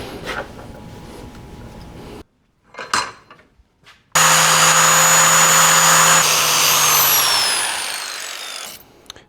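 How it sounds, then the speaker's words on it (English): A power grinder works one side of a round steel tube for an engine test stand: short scraping bursts, a silent gap, then a loud steady whine that holds for several seconds, sags in pitch and cuts off. "I gotta grind one of the sides of our round tube to make a good weldable finish."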